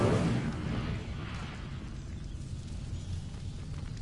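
The Incendio fire spell in Hogwarts Legacy lets out a loud, bursting whoosh of flame at the start that settles into a steady roaring rumble.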